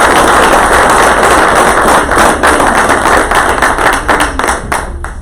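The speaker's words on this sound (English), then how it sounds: "let's give all of our awardees another round of applause" An audience applauds awardees at a Texas Military Department public affairs awards ceremony, with loud, dense clapping filling the room and then thinning into scattered individual claps near the end.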